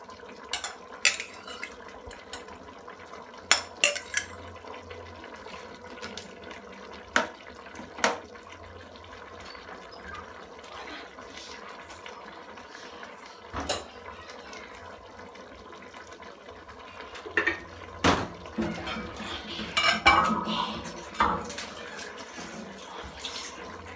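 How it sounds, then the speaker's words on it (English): Curry sauce stirred in a pan, quiet cooking background broken by sharp metallic clinks of a spoon against the pan and a louder stretch of scraping and stirring near the end, no speech. "So I give this a stir"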